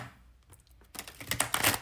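Tarot cards are shuffled by hand. Soft scattered taps start quietly, then a denser, louder riffling flutter of cards builds in the second half, close to the microphone, with no speech.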